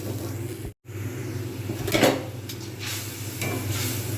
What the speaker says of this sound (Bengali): মশলাটা ফুটছে